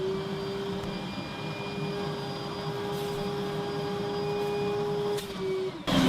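An extractor fan runs inside a bin bag, giving a steady whirring drone with a sustained tonal whine that holds for several seconds before a short clatter at the end, with no talk.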